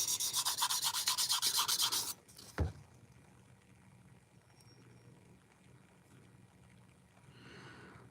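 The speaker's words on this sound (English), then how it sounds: "try sanding in water to get a smoother sanding result" A cylinder sleeve is sanded with a steady, rapid rubbing rasp for about two seconds, followed by a single knock and then quiet handling noise with a faint scrape near the end.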